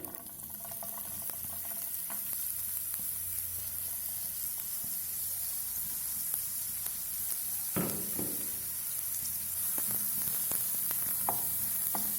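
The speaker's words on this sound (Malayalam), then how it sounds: "ആദ്യം വെളിച്ചെണ്ണ ഒഴിച്ച് കൊടുക്കാം അത് കഴിഞ്ഞ് ഉള്ളി ഇട്ട് കൊടുക്കാം" Chopped onions frying in coconut oil in a pan, a continuous close hiss and sizzle with a few stirring clatters partway through, alone without voices.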